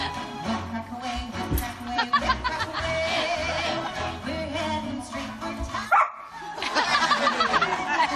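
A dog barks and yips excitedly at ballroom dancing on television, its sharp barks and whimpers repeating over loud music and TV sound, with a brief pause before the noise resumes.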